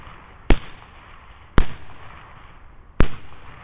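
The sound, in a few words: rifle gunshot during thermal hog hunt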